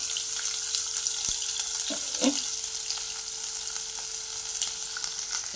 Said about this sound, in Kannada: ಈ ಥರ ಈರುಳ್ಳಿ ಚೆನ್ನಾಗಿ ಆಯಿಲಲ್ಲಿ ಫ್ರೈ ಆಗಬೇಕು